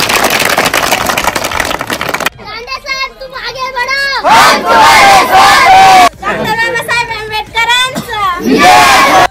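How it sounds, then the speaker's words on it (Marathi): A village crowd in Kolewadi welcomes an election candidate with loud cheering and shouted chants, with bursts of massed voices between stretches of a strong amplified voice on a loudspeaker. "सर्वांनी टाळ्या वाजून त्यांचे अभिनंदन करावे"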